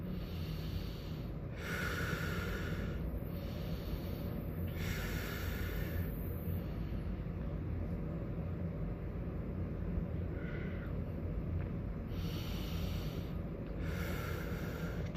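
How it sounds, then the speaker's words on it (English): Slow, deep breaths in and out, each airy inhale and exhale rising and fading in a steady unhurried rhythm over a constant low background rumble, with no talking. "Just be with your breath."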